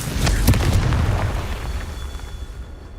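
Confringo fire spell exploding in the Hogwarts Legacy video game: a close, loud blast with several rapid crackling bursts at the start, then a low rumbling roar that slowly fades.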